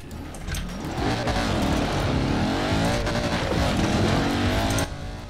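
A car engine revs hard and accelerates in the Forza Horizon 4 racing game, with a loud, steady, rising roar that runs for several seconds and cuts off near the end.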